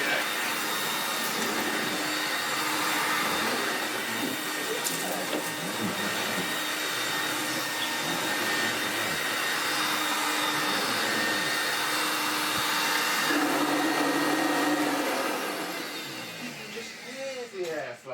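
A vacuum cleaner drones steadily as it runs over carpet pile, a loud, even motor whine with a faint rising tone partway through, then the roar drops away near the end.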